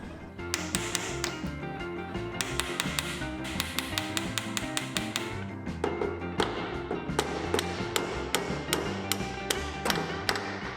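Sharp hammer taps beat stuck valves down in the engine of an abandoned 1926 Ford Model T Touring, a dense run of close metallic strikes in quick bursts with brief pauses between groups.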